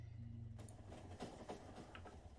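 A Factorio train rolls along with a steady rumble and a few faint clicking beats, moderately loud and without speech.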